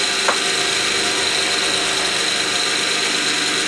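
A Mamod showman's traction engine runs while driving a Meccano 8257 Ferris wheel, giving a steady, fairly loud mechanical whirr and hiss with a constant high tone and no pauses.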